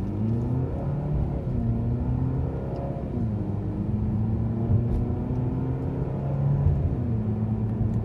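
A Fiat Toro pickup with a new engine running on ethanol and a nine-speed automatic pulls away, its engine droning in a low steady rumble from inside the cabin that climbs through gear changes.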